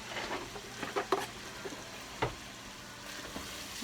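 Rice is stirred in a pot of boiling water on a stovetop, giving scattered scraping clicks and knocks over a soft bubbling hiss, close and fairly quiet, with no talking.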